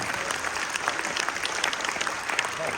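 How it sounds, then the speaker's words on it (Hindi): A standing audience in Kanpur claps continuously, a dense, even patter of applause heard from within the hall, with faint crowd murmur beneath. "मेरे बिना कहे आप लोगों ने खड़े होकर तालियां बजाई"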